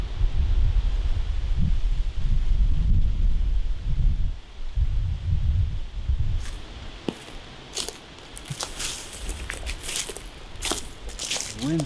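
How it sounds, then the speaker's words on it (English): Wind swirls down into a big bowl in the Michigan woods during a deer hunt, gusting as low rumbling buffets against the microphone, with rustling and crunching handling sounds toward the end. "Wind swirling down in this big bowl."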